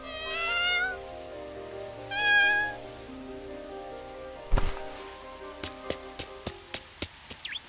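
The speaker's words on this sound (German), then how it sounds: "Oh, eine schwarze Katze." A black cat gives two drawn-out, high meows up close, followed by a thump and a run of sharp tapping knocks.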